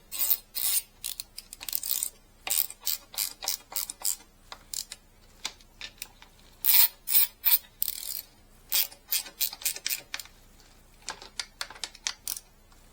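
A ratchet wrench runs bolts down on a classic Honda engine, giving rapid bursts of sharp metallic clicking in irregular runs with brief pauses between, close and crisp.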